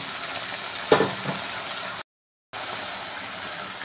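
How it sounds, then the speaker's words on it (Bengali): Fried mourola fish drop into a sizzling pan with water already in it, sending up a sharp burst of spitting hiss that settles back into a steady fry, broken by a brief silent gap. "এরপর দিয়ে দিচ্ছি ভেজে রাখা মৌরলা মাছগুলো"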